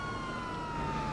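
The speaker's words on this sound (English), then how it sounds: "Like the freaking AI is ignoring our freaking lights and sirens." A police car siren from the video game GTA 5 Online holds a steady, loud wail under engine rumble, with no break across the short stretch.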